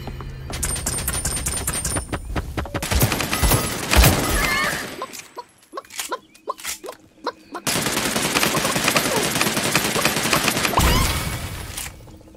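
Loud, rapid bursts of video game gunfire, machine-gun style fusillades with sharp individual shots, dropping to sparse scattered cracks midway before another dense sustained volley.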